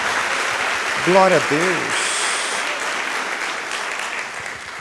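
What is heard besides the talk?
congregation applause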